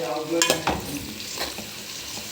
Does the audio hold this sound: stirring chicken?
yes